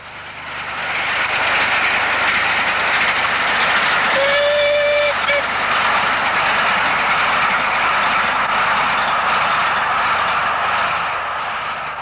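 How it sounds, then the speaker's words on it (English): A steam locomotive, Elder Dempster Lines, hauls a Great Central farewell rail tour in 1966. A loud, broad rumble swells as the train passes close by, and a brief whistle tone sounds partway through. "Elder Dempster Lines headed a Great Central farewell rail tour."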